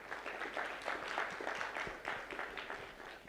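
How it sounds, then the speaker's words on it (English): Audience applause at a peace-day gathering after elections, a steady wash of many hands clapping at moderate, slightly distant volume with no clear pauses. "Please clap for ourselves."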